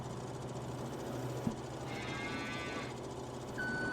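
Cattle mooing in Farming Simulator 22, heard as a drawn-out harmonic lowing call in the middle of steady farm ambience with a brief thud and a later tonal hum.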